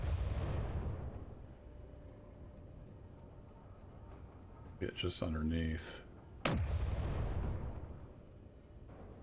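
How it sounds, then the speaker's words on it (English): An artillery cannon in the Space Engineers video game fires with deep, booming rumbles that swell and fade at the start and end, while someone talks over the middle. "they have their own artillery cannon."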